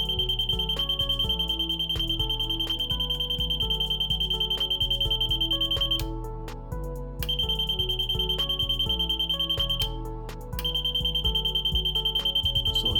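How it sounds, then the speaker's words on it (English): A buzzer on an Arduino project, set off by a photoresistor, sounds a continuous shrill high tone that cuts out briefly twice before resuming, close and steady, with no talking. "And this one is specifically for the buzzer and for the light, the LED."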